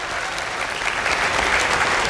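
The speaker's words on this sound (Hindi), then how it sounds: "इन तीनों के लिए बहुत सारी तालियां।" An audience at a school motivational session claps for three students, a dense, steady burst of applause from a crowd filling the room, loud and continuous for a couple of seconds.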